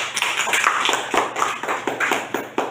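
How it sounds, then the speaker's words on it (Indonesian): A small classroom group claps for student group 3, sparse and uneven with distinct individual claps and taps at close range. "tepuk tangan buat kelompok 3."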